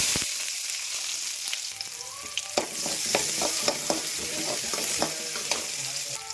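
Mustard seeds and onion fry in hot oil in a kadai, a steady sizzle broken by sharp, scattered pops and stirring clicks, close and fairly loud with no voices.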